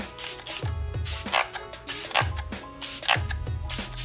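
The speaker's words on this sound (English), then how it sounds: "Just gonna spray that everywhere." A pump mister sprays facial primer water in a series of short, sharp hissing sprays, each with a faint click, repeated several times up close.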